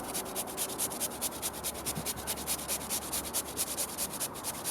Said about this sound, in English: just peeling the potato like this